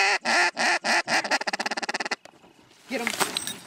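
Ducks near a spread of decoys on a winter hunt in North Dakota let out a loud, rapid run of quacks that speeds into a fast descending chatter, then fall quiet before a brief burst of noise.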